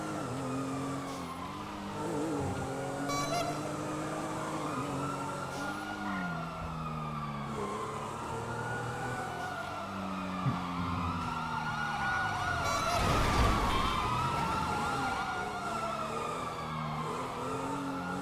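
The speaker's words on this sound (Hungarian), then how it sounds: "hallok izét, szirénát" Several emergency vehicle sirens in the video game GTA V wail and overlap in rising and falling sweeps, fairly faint and continuous, with no one talking.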